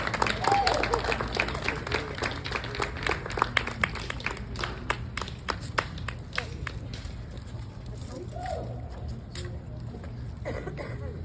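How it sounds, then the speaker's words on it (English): A crowd at an International Overdose Awareness Day gathering in Simcoe County claps steadily in a dense, sustained round of applause, with voices mixed in and the clapping thinning out toward the end. "can we get another round of applause for Lori, please?"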